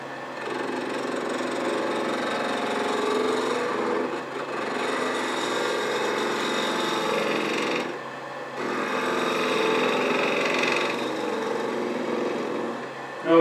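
A woodturning tool takes very light cuts in bubinga wood on a spinning lathe, giving a steady, fairly quiet scraping whir that runs continuously with two brief pauses.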